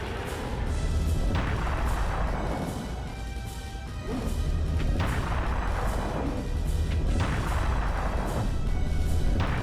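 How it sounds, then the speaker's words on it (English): Heavy cannon shots boom repeatedly at a video game final boss, with loud crashing blasts landing every couple of seconds over a dense, rumbling battle din. "we're going to be wanting to use a cannon here a bunch"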